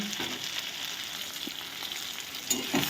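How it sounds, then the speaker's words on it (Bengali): Close-up sizzling of tomato masala frying in a pan, with a few soft scrapes of stirring and no speech. "এবার ভালো করে কষিয়ে নিচ্ছে একটু"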